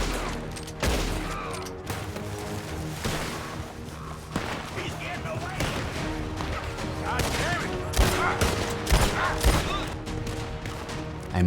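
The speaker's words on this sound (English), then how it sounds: "Gunfire broke out." Gunfire in Red Dead Redemption 2 during a daylight shootout, with rapid, repeated shots and sharp cracks coming in dense clusters across a noisy, busy game scene.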